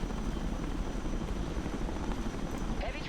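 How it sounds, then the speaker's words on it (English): Helicopters in the video game Broken Arrow produce a continuous, close rotor thrum with a steady choppy pulse and engine whine, heard on its own throughout. "Okay, we're looking at the helicopters now."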